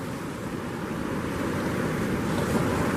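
Waves run into the St Lucia Estuary mouth as a steady, broad wash of surf, blended with wind rumble and continuous throughout.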